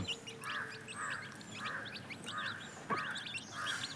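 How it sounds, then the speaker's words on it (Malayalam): Chicken chicks chirp in repeated short bursts, about one call every half second, fairly faint against a quiet background. "ഇത് നമ്മളെ പാരസ്റ്റോക്കിലേക്കുള്ള കോഴിക്കുഞ്ഞുങ്ങളാട്ടോ"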